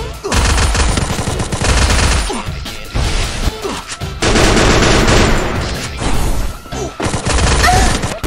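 Dense bursts of gunfire in a shooting video game, rapid machine-gun volleys and single shots crowding together loudly, with short pauses between the bursts and little talk over them.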